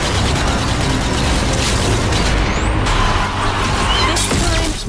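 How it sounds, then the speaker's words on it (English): Grenades explode during zombie gameplay in Zombie Army 4: Dead War, heard as loud, dense, continuous booms and crashing blasts layered over a roaring game soundscape. "Some grenade throwing."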